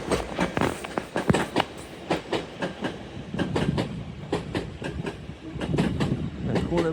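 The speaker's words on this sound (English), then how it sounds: "Departing now will be your 1205, I think it is, Transpennine Express service from Newcastle to Liverpool Lime Street" A TransPennine Express class 802 train from Newcastle to Liverpool Lime Street departs York station, its wheels giving a rhythmic clickety-clack over rail joints, moderately near and steady throughout.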